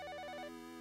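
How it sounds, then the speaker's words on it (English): A pulsing electronic telephone ringtone from the PC-98 visual novel game YU-NO, clear and close, ringing in rapid repeated bursts before cutting to a steadier electronic tone. "every time I hear a ringtone like this in a game or an anime or something"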